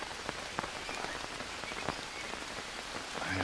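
Steady rain patters across the ground in the survival game Green Hell, a dense, even hiss with scattered louder droplet taps and no voices.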